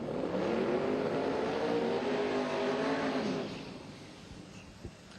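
A 1965 Chevy drag car with a 427 small block and twin 72 mm turbos roars loud and steady at a spring race meet, then fades away after about three seconds, leaving a quieter background.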